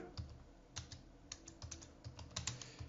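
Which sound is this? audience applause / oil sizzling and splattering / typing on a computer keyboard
typing on a computer keyboard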